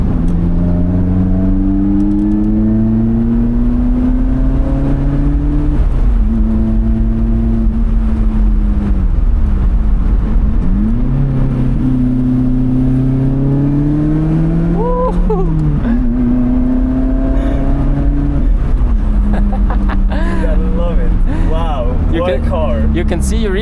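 A Lotus Elise engine droning loud and close inside the cabin on a mountain road, pitch climbing steadily then dropping at each gear change, revving through several gears, with people talking over it.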